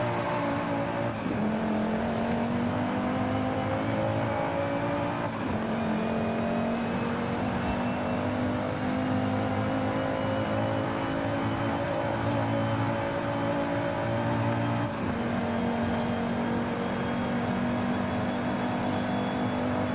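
A 600 HP Volvo C30 Polestar engine in Forza Horizon 5 revs continuously at high pitch, with brief dips like gear shifts every few seconds; steady and loud, no talking.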